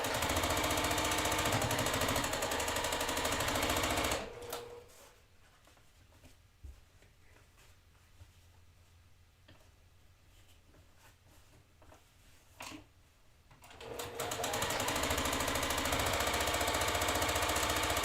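A sewing machine stitches quilt block rows together. Its loud, steady motor drone runs for about four seconds, falls silent through a long quiet stretch, then starts up again near the end.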